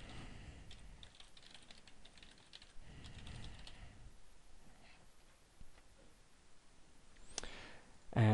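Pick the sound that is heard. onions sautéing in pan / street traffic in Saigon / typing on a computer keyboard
typing on a computer keyboard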